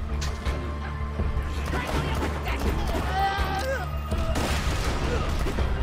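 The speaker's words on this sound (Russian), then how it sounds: "Как клевая граната, блин." Borderlands 2 gameplay: rapid bursts of gunfire and a grenade blast rattle through dense, loud combat noise, while players talk over the action throughout.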